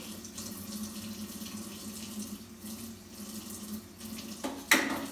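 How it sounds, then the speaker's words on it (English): Tap water runs steadily into a sink while fish is washed, a soft continuous stream with a brief louder splash near the end, heard alone without speech. "Wash the fish thoroughly."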